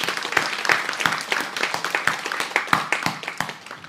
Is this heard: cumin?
no